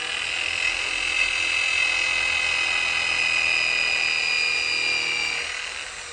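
A drill bores a countersink for a screw in a homemade chainsaw carving plate, giving a loud, steady, high whine up close that runs unbroken and eases off slightly at the end.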